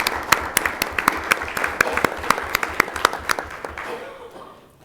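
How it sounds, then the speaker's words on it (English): Audience clapping at a school board of education meeting, a steady round of applause with distinct sharp claps close by that tapers off toward the end. "let's give Alan Thacker a round of applause"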